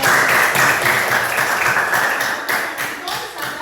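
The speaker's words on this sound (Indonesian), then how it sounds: "Iya, kita beri tepuk tangan dulu untuk" A classroom group claps for a team that has just presented its discussion results, a loud, dense patter of many hands that stays fairly steady and then eases slightly toward the end, with no voices over it.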